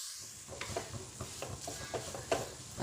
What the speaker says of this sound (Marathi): तर 5-1 मिनटं छान परतून घेऊया.